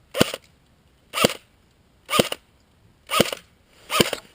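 An Umarex UMP 45 airsoft gun fires five sharp, evenly spaced single shots about a second apart, close and loud against a quiet background.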